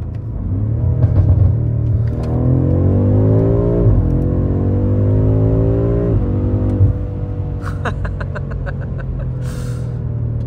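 A 2021 BMW M5 F90 accelerating hard from a 40 mph roll, its engine rising loudly in pitch through several gears with brief dips at each upshift, heard from inside the car, then settling into a steady drone.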